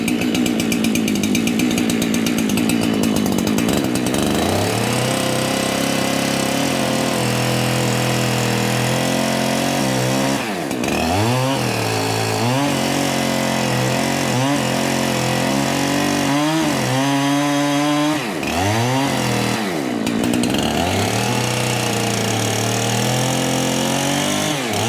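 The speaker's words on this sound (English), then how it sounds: "Let's go grab the chainsaw." A loud, close chainsaw roars and revs repeatedly, its pitch dipping and climbing as it bites into a log, running continuously throughout.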